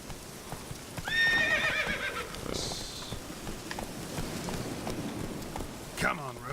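Roach the horse in The Witcher 3 neighs loudly once near the start, then hooves clip-clop steadily with a rider's voice talking over the top and another whinny near the end.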